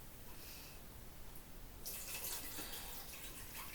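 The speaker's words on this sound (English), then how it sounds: "so I'm going to add the water now." Water poured from above into a pot of chicken and potato stew, taken off the heat: a steady hiss of pouring that turns fuller and splashier halfway through, close up, with no voices.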